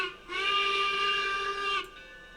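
A steam locomotive whistle in the train game Railroads Online sounds one steady, clear, multi-toned blast lasting about a second and a half, loud and alone.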